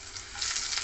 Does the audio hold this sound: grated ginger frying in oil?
yes